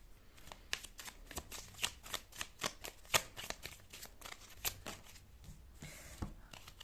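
Tarot cards being shuffled in a steady run of quick riffling snaps, close and crisp, continuing for several seconds without talk.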